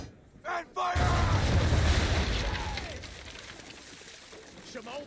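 Ship cannons in the Assassin's Creed III game fire in a booming volley, a heavy blast that rumbles and fades over several seconds, with a shouted order just before it and faint voices near the end.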